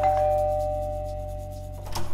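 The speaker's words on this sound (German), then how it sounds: "Vor der Wohnungstür von der Rosi bleibt der Herr Tack stehen und läutet." A single electronic doorbell chime rings out at an apartment door in a radio play, its tone sustaining and slowly fading before a faint rustle.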